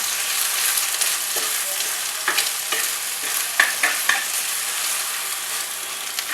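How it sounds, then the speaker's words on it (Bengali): Bitter gourd and egg frying in a pan while being stirred, a bright steady sizzle broken by repeated scraping strokes of a spatula, close and fairly loud throughout. "দিয়ে আমরা এটাকে ভালো নাড়াচাড়া করে নেব"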